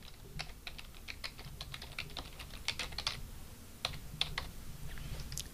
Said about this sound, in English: First thing I'm going to do is type in the destination of the site and make sure it's typed in properly.